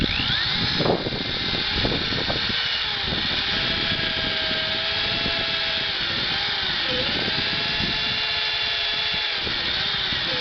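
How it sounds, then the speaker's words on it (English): Power drill boring a hole in wood during a first construction project, a steady whining motor drone running continuously for the whole stretch, close and fairly loud, with no talking. "I'll drill the other hole right away."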